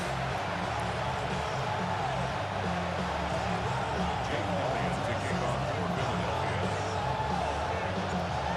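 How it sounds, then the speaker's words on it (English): A steady roar of a stadium crowd during an NFL Wild Card playoff game between the Detroit Lions and Philadelphia Eagles in Madden NFL 26 on PS5 Pro, held constant throughout while a commentator speaks over it. "The crowd is alive and with good reason"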